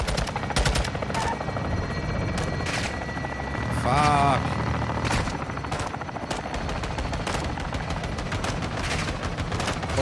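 Rapid, repeated gunfire in Call of Duty: Modern Warfare 2 (2022) during a raid on a base: close, sharp shots crack in bursts over steady battle noise, with a brief spoken exclamation.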